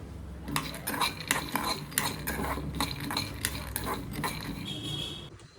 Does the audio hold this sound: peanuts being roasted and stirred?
yes